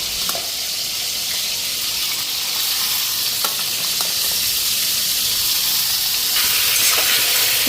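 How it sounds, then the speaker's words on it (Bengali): Food frying in a pan gives a loud, continuous sizzle with a steady hiss, broken by a few faint clinks of stirring. "এখন ভাজা বসাই দিই"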